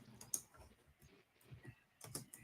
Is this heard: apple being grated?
no